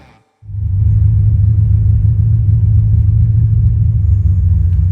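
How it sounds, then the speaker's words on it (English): A Chevy Nova with a 406 small-block nitrous street engine fires up and holds a loud, deep, steady rumbling idle, up close and alone. "Finally, it was time to take the car out for a test drive and see how it runs."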